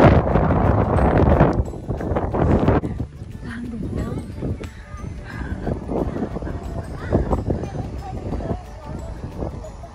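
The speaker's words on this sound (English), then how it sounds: "Wow, the wind is so strong." Strong wind buffets the microphone outdoors at a playground, low rumbling gusts that are loudest at the start and then come in bursts, with people talking over it.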